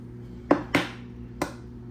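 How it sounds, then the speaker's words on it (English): Eggs cracked against a bowl and dropped in while baking a keto lemon curd cake: three sharp, close taps, two in quick succession and one after a pause, over a steady kitchen hum. "Now, I'm gonna drop the eggs in."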